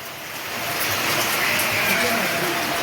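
Heavy rain pours outdoors as a dense, steady roaring wash that swells slightly and stays loud and continuous throughout.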